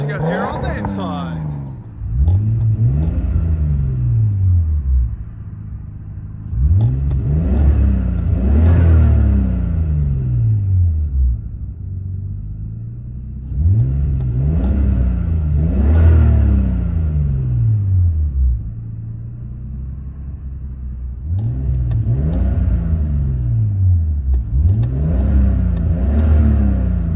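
Engine of a 1989 Nissan Skyline Type-M with a high flow converter, heard from inside the car, revved repeatedly in loud sweeping bursts, each climbing and falling, about four rounds of throttle blips with short idle gaps between.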